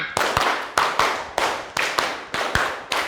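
A class of children clap a rhythmic pattern twice through, about nine crisp group claps in a steady repeating beat, close and loud in a classroom, with no talking.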